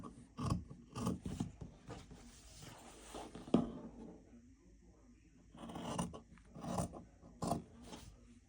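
Scissors snip the corners out of a piece of tote bag lining fabric. Quiet crisp cuts and rustles come in short clusters, with a faint voice nearby.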